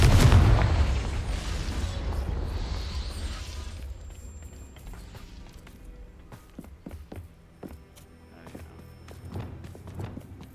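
Confringo fire spell blast in Hogwarts Legacy, a loud booming explosion that rolls off and fades over several seconds, followed by scattered footsteps and small pops in the game's soundscape.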